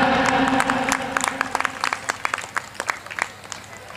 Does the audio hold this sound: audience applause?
yes